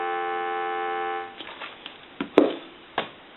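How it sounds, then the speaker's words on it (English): A single-slot payphone dial tone hums steadily for just over a second, then cuts off, followed by a few quiet clicks and handling knocks. "Give you some dial tone."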